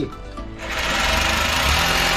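A power drill whines at high speed, a steady buzzing hum that spins up and holds loud and close.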